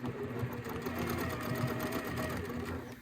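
A sewing machine stitches the fabric of a Monopoly house tissue box cover, a steady rapid mechanical whirr with a regular needle rhythm, close and continuous without talk.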